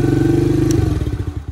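The engine of an ATV four-wheeler bought from Amazon cranks with a rapid, loud, rhythmic chugging that slows and sputters near the end.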